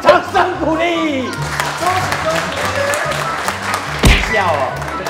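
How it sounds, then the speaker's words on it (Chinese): A studio audience on a variety show applauds a property-sales gag, clapping mixed with voices and a low musical backing, with a sharp thump near the end. "买！掌声鼓励！"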